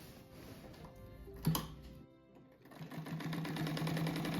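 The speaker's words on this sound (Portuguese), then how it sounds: "Aqui eu vou fazer mais uma costura do lado da primeira." A sewing machine runs a seam along a folded fabric laundry rug, a brief burst of stitching with a sharp knock, a pause, then a steady, close mechanical whir that continues to the end.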